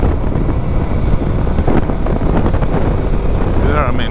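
Suzuki DR 650 motorcycle pulling away in top gear, its engine rising under loud, buffeting wind rush across the microphone, with brief muffled talk.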